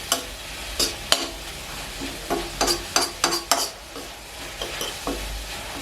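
Vegetables being stir-fried in a hot pan for Thai lemongrass chicken, with a steady sizzle beneath repeated scraping strokes of a utensil against the pan at an uneven rhythm, close and fairly loud.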